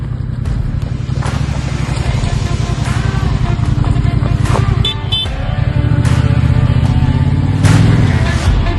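A motorcycle being ridden produces a loud, steady engine drone that swells slightly toward the end, with no clear speech over it.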